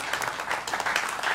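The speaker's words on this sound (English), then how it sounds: "Let's give the Velvet a round of applause for that." Audience applause at an open mic jam, a brief burst of dense, steady clapping close and fairly loud with no pause.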